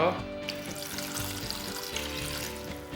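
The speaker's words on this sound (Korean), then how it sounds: "냄비에 물을 담아주세요." Water, about 300 ml, pours steadily into a metal pot, a continuous splashing stream with a faint hollow ring, close by and fairly quiet.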